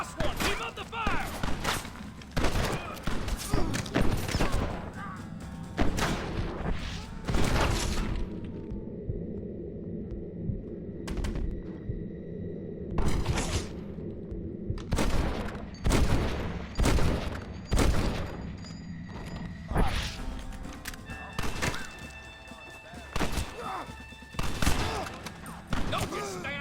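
Repeated bursts of gunfire fill a Red Dead Redemption shootout, with loud irregular volleys, booms and rumbling echoes across the scene and voices shouting between and over the shots.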